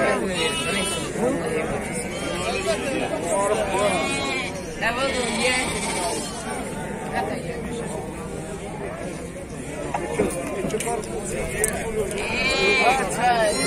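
Lambs and sheep bleat over and over at an outdoor livestock market in Füzuli, Azerbaijan. The calls overlap with steady crowd chatter and nearby voices of people talking.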